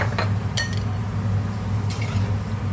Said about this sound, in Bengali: এটা এভাবে হালকা নাড়তে হবে স্লো স্লো হিটিং